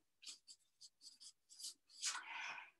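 A pen writing on paper while sketchnoting, a close series of short scratchy strokes in quick bursts, ending in a longer continuous stroke, quiet and alone.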